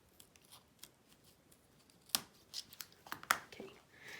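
Paper being trimmed for a handmade card, a few crisp cutting snips and rustles spaced over a few seconds, close and soft against a quiet room, no talking.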